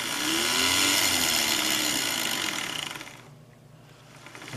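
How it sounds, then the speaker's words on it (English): Burrs being taken off a newly cut brass contrate wheel for a carriage clock, likely with abrasive paper on a spinning lathe, giving a loud, steady whirring grind that fades toward the end before rising again. "Basically what I'm doing here is taking off all the burrs"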